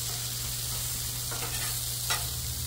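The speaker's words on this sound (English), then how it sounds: "And you can see our potatoes are starting to get a nice little brown on them. We just want to give them a quick mix." Potatoes frying on a Blackstone griddle being given a quick mix: a steady, even sizzle with a couple of brief spatula scrapes near the end, close up and without talk.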